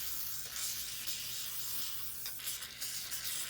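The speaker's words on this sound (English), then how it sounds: "We're going to spray this down with some of the MPPL right here." Steady close hiss of penetrating lubricant sprayed from an aerosol can onto a Honda ATC 200X rear shock on a workbench, continuous and fairly loud with slight surges, no talking.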